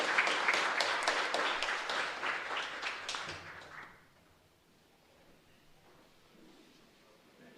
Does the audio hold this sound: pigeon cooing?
no